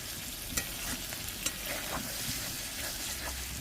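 Chicken and cashew gravy is stirred in a pan, with continuous scraping and soft sizzling plus a couple of sharper utensil clinks against the metal, close and steady with no talking.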